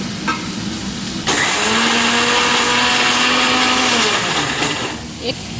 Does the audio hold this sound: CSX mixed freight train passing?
no